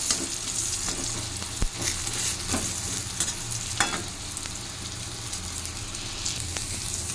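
Soybean chunks fry in oil in a pan, a steady crackling sizzle broken by spatula scrapes and occasional louder stirring knocks, heard up close with no talking.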